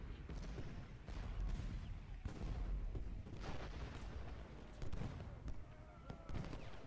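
Continuous rumbling cannon barrages from Civil War artillery in the Gettysburg battle game, with repeated booming impacts layered over a dense battlefield din and faint voices.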